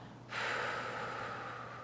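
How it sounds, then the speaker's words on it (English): A full, steady exhale through the mouth during a chair yoga breathing practice, a soft breathy rush that starts abruptly and holds for about a second and a half, close and alone. "let's exhale fully and completely. This time through the mouth"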